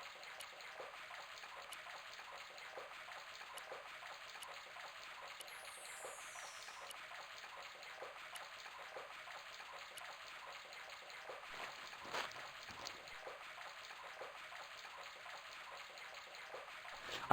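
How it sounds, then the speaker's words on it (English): Faucet running in the Broken Sword adventure game: a faint, steady trickle of flowing water, quiet and continuous, with a few small drips and clinks. "The faucet creaked, coughed, and spewed out a stream."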